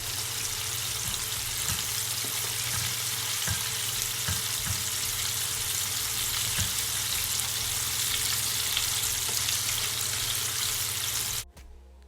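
Salt and pepper chicken wings, at least seven, frying in a big pot of oil, a continuous dense sizzle and crackle with occasional pops, loud and close, cutting off abruptly at the end.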